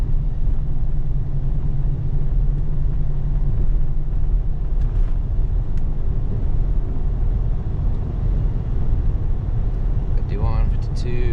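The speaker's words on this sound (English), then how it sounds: "it sounds like we're driving over rumble strips almost" A truck's 8L90E automatic transmission shudders while driving, a loud continuous low rumble like tyres crossing rumble strips, with road noise and someone talking over it.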